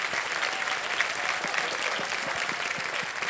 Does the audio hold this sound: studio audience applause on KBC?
yes